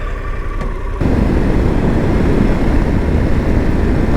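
After a brief quieter moment, a Harley-Davidson Pan America motorcycle engine kicks into a steady, rough, loud roar that continues without letup.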